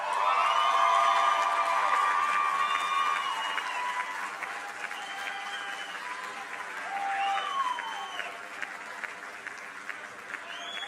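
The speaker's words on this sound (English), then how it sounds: "Let's give a big round of applause to the graduates of 2014." Morning commencement crowd applauding the 2014 graduates of Salem State, a sustained roar of clapping with cheers and whoops rising and falling over several seconds.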